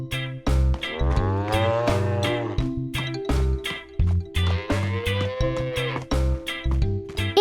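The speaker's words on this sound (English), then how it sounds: "Peppa takes care of the dairy cows." Cartoon dairy cows in a cowshed, a run of loud, drawn-out moos overlapping one another with bright music-like harmonics, repeated through the stretch with no talking.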